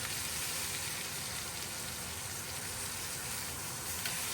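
Meat edges sear on a hot grill outdoors after Alaska's first snowfall, giving a dense, constant hiss of sizzling fat that is fairly faint and unbroken.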